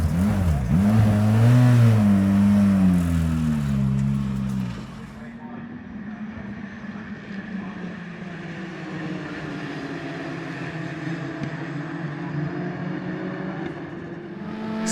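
Race car engines roar and rev loudly at the start of a race on slick tyres in light rain, a dense, rising drone that falls back to a steadier, quieter hum.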